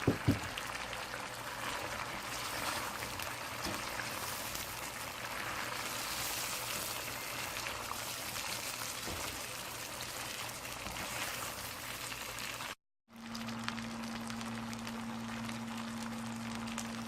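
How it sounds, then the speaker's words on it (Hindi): Meat and potatoes sizzle and fry in a pot for aloo gosht, a steady soft crackling hiss that continues with a brief cut near the end, with no talk. "इसमें अभी आलू डाल दूंगी, फिर 5 मिनट तक भून लूंगी।"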